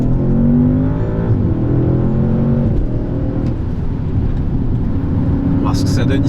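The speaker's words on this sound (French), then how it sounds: "On entend le gros V8 qui gronde." An Audi S model's big V8 with 800 Nm of torque rumbles steadily from inside the cabin while driving, a low continuous engine drone under someone talking.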